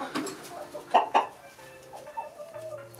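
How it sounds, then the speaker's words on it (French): Hens cluck in a chicken coop where a blue hen is laying, a few short close clucks and soft calls over quiet barnyard background. "Donc là, bon là il y a aussi une poule bleue qui pond."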